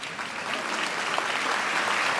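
An audience applauds steadily, a soft even patter of many hands clapping for a couple of seconds.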